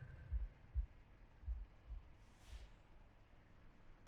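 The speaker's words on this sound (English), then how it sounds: "a deafening heartbeat." A heartbeat sound effect from the video game The Last Campfire: slow, deep, muffled thumps in uneven pairs over a quiet low hum, with a faint soft swish midway.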